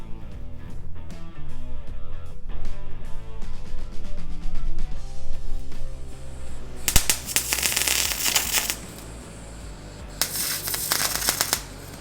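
MIG welding fills rust repairs on the front sill section of a Ford Landau hardtop coupe, with loud crackling, spitting bursts that come and go in uneven stretches.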